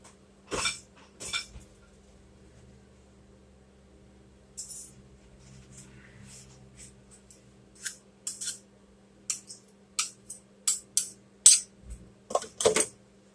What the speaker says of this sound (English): Okay, so I'm going to stir it around.